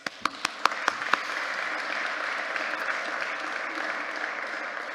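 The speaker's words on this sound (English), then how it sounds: "Round of applause." A room full of people at a community energy celebration breaks into applause, opening with a few sharp, separate claps before settling into steady, moderately loud clapping that carries on to the end.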